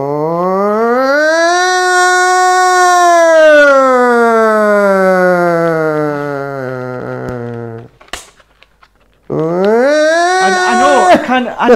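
A person's voice imitates a siren with a long, loud wailing tone that rises then slowly falls over several seconds, breaks off briefly, and then starts a second rising wail, close and alone.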